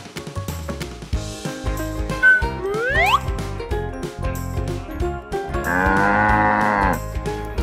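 Cows on a farm mooing several times, with long, deep, drawn-out lowing calls close by, the loudest toward the end, amid scattered light knocks and jingles.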